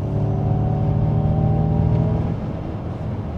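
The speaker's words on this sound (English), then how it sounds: "So you do get that sort of electronic synthesized V8 burble inside the cabin" Low synthesized V8-style burble humming steadily inside the cabin of a 2023 Ford Mustang Mach-E electric car, a deep tonal drone that eases slightly after two seconds.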